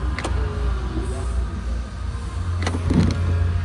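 A low, steady mechanical hum of a Range Rover SV power window motor straining while closing, with a few faint clicks and thumps near the end.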